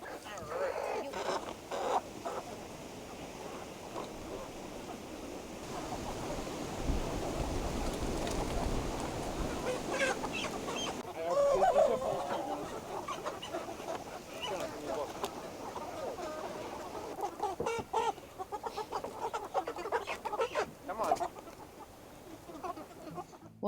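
Chickens clucking and squawking while being loaded into a trailer bedded with dry mulch, with scattered bird calls over rustling and handling noises and people talking nearby.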